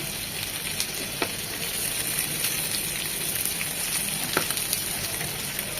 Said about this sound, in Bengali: সময় নিয়ে আস্তে আস্তে এগুলোকে উল্টিয়ে পাল্টিয়ে একেবারে মাংসটা কুক হওয়া পর্যন্ত এভাবে ভেজে নেব